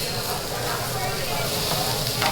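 A calamari steak sizzles on a teppanyaki grill at Teppan Edo in EPCOT's Japan Pavilion, a steady close hiss running throughout with restaurant chatter and nearby voices underneath.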